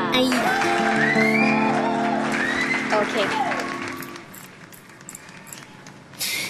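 A radio-show audience claps for a singer at City Life FM Sriracha while music with sustained tones plays; the applause is fairly loud, then the music fades out and scattered clapping thins, with a short spoken word near the end.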